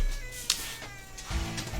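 A cat meows close by, a short meow followed by a longer, drawn-out one, fairly loud with no talking.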